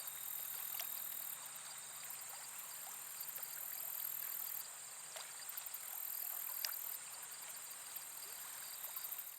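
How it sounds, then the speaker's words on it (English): A river running high past a campsite flows steadily as a continuous broadband wash, with faint insect chirps and occasional brief higher ticks over it; no one speaks. "the river was rising, flowing nicely past the camp"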